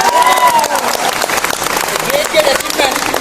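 An audience claps loudly and densely, close up and steady throughout, for a record achievement of winning a car at a team gathering. A few faint voices sound within the applause.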